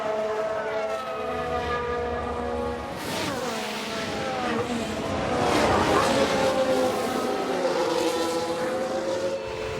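A 1995 Ferrari Formula 1 car races past in a management game replay, its high-pitched engine whine rising and falling in pitch as it nears and recedes, with other engine tones layered underneath.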